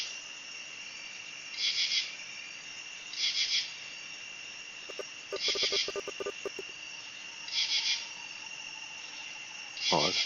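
A bird calls outdoors at night in short repeated bursts, spaced a second or two apart over a steady chorus of insects, with a brief rattling clatter midway and a faint voice in the background.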